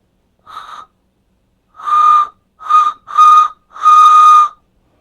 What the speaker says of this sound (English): It is a whistle.